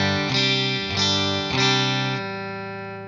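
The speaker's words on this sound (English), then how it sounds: "Now the presence all the way up sounds like this." Laney LA-Studio tube amp playing a clean guitar tone with the presence control turned all the way up: three bright, sustained chords strummed about half a second apart, the last left ringing and slowly fading, loud and close with no talking.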